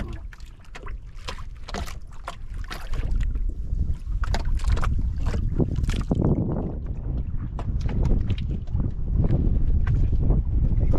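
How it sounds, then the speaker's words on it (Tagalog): Wind buffets the microphone on open water as a small fishing boat swings around, with a steady low rumble and scattered knocks and splashes throughout, no voices. "Ikot yung bangka. Hangin kasi mga kapatid."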